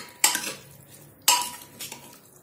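Metal lid of a pressure cooker holding cooked dal and dhemase (round gourd) lifted off, giving two sharp clanks about a second apart and a fainter third knock, close by with no talk.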